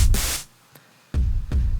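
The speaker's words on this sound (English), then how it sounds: "I have this pretty basic kick and snare pattern" A basic electronic kick-and-snare pattern from a drum rack: a bright noisy hit, a pause, then deep booming kick hits in a steady loop, loud and alone.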